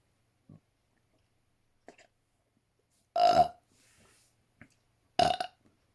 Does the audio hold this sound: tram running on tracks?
no